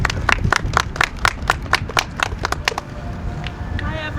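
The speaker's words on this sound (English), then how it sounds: "Give them a round of applause." A crowd claps for Minnesota Nurses Association representatives at a press conference on medical care in Minnesota jails, with sharp, fairly rhythmic hand claps over murmuring voices before the clapping thins out near the end.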